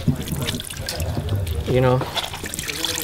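Turpentine trickles and drips from a rag being wrung out, a wet, splattering dribble heard close up beneath a man's speech.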